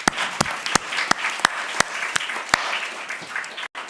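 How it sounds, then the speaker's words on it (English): An audience at an education conference applauds with a dense, steady round of clapping, and a few sharp individual claps stand out near the microphone. The applause cuts off briefly at the end. "Let's give him another round of applause."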